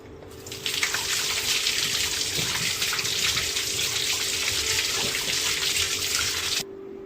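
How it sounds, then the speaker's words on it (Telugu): Running tap water gushes steadily for about six seconds, close by, as peeled elephant yam is washed under it, then it cuts off abruptly. "ఇలా చెక్కు తీసేసుకున్న తర్వాత శుభ్రంగా నీళ్ళ దగ్గర కడుక్కుందాం."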